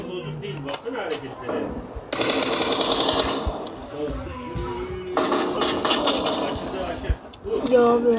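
Two long bursts of loud, rumbling explosion noise from a video game bomb, each lasting over a second, with excited voices talking over and between them.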